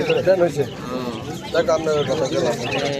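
Pigeons coo in repeated low, throaty bursts at a Friday pigeon and bird market in Sreepur, Gazipur, close by and mixed with people talking nearby.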